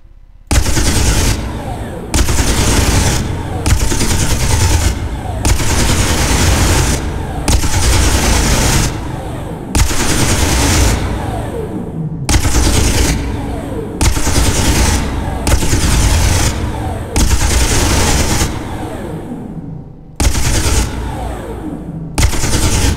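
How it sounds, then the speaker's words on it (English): Vulcan minigun-style cannons, five on each arm of a small ship in the game Space Engineers, firing in long loud bursts of rapid automatic fire with short pauses between them. "So this is based on like a Vulcan minigun sort of cannon sort of thing."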